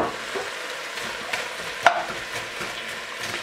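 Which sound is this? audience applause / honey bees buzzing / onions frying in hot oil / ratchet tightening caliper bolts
onions frying in hot oil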